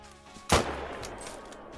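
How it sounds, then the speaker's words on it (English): A single sharp rifle gunshot in the hunting game TheHunter: Call of the Wild, a loud crack followed by a rolling echo that fades slowly. "Neck shot. He's down."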